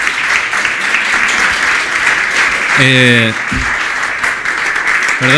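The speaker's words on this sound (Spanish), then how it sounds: "aplausos." Audience applause at the close of an acoustics seminar talk, a continuous wash of clapping throughout, with a brief tonal beep-like sound cutting in midway.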